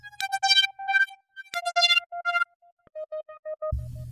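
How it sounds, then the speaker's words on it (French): A synthesizer patch from Reason's ID8 instrument plays back as a choppy sequence of short bright tones with pauses between phrases, ending on a low buzzing note, faint and clean with no voices. "mais cette fois c'est un son de synthé qui vient de l'ID8 synthétique"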